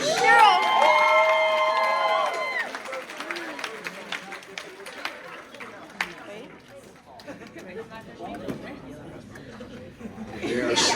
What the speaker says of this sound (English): let's have a big round of applause for your 8th and 9th grade bronze